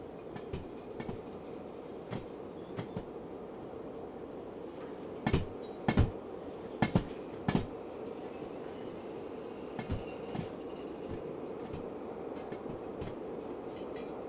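A train rolls past in the Derail Valley railway game, a steady rumble of carriages with sharp clacks and knocks from the wheels and couplings recurring through it, loudest midway, with no talk.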